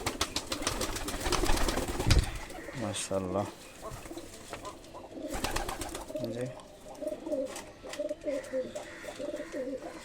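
Pigeons coo in low, rolling phrases nearby, with a person speaking briefly over the birds and some flutter and shuffling in the background.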